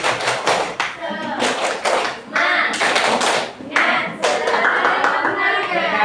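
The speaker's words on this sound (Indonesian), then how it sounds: "Tepuk semangat." A primary school class performs a rhythmic spirit clap in unison, loud close bursts of patterned clapping separated by short pauses, with children's voices chanting along.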